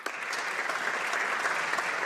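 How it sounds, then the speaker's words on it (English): Applause from members in the House of Commons, a steady, dense clapping that sustains at an even level for a couple of seconds, fairly distant and alone without talk. "I encourage all of my honourable colleagues to join me in applause"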